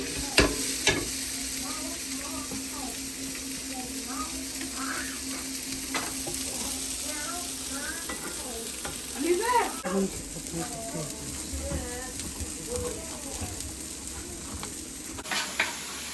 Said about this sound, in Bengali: ব্রোকলি জাস্ট একটু ব্ল্যাক পেপার আর সয়া সস দিয়ে ভাজতেছি